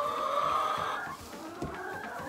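Hens in a hen house with fresh straw chatter and cluck softly, a quiet steady murmur of several birds up close with no talk.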